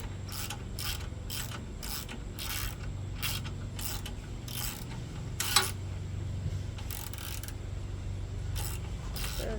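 Repeated ratcheting clicks come from tightening bolts on a Tecumseh engine being reassembled, with about a dozen short bursts of wrench clicks at a steady pace, close and moderately loud over a low background hum.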